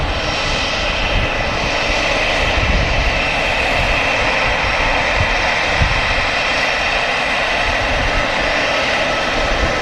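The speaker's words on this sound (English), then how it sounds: "It's a British registered EasyJet." A British-registered EasyJet airliner moves at Manchester Airport, its engines giving a loud, continuous roar and broad rushing noise that holds steady and near throughout, with no talk.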